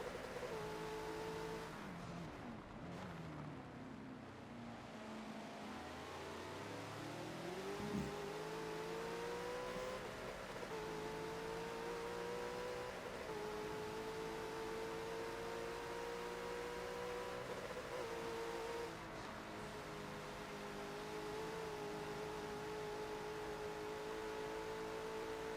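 Race car engines roaring steadily at Spa Francorchamps in a GT racing video game, with rising pitch sweeps as the cars accelerate and shift gears, continuous and loud throughout.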